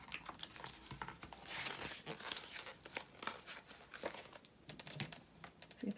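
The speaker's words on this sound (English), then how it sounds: "So this has signatures, so I am going to cut in the middle." Quiet, close crinkling and snipping as the middle of a journal's paper signatures is cut, an irregular series of soft papery scrapes and crunches.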